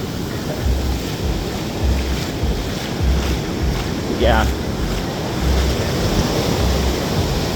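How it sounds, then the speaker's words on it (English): Ocean waves roll in on a beach during a morning walk, a broad rushing wash under strong wind buffeting the microphone, with a voice briefly heard. "waves coming in right now."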